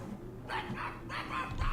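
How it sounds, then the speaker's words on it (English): A dog barks twice in quick succession in the video game Dragon Age 2, short mid-pitched woofs heard fairly close, with no talk over them. "Why is my dog apparently barking?"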